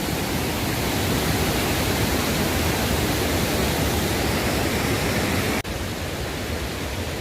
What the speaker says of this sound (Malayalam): നല്ല ഒഴുക്കുണ്ട്, വെള്ളം കുറവാണ് വെച്ചാലും, പക്ഷെ നമുക്ക് ഒഴുക്ക് കാണാൻ പറ്റുന്നുണ്ട്